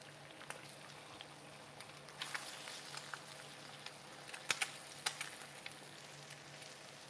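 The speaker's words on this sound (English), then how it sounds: "It's sizzling." Eggs sizzling in a frying pan while cooking for stacked breakfast tacos, a steady, fairly quiet crackle with scattered sharper pops, building slightly toward the middle, no voices.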